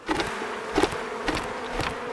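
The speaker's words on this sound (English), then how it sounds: "we'll just brush the bees out that are remaining in the box" Honey bees from a nucleus colony buzzing loudly at close range as their box is shaken down onto a hive, a dense steady drone broken by a few soft knocks.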